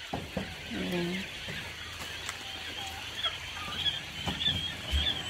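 Small clucks and chirps from a flock of laying quail held in delivery crates, brief calls scattered over a steady background with a person talking nearby.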